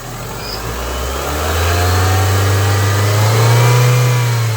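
A 2004 Honda Civic engine revs up steadily to 3000 rpm, its pitch rising and holding at a higher, sustained roar, heard up close with no talking.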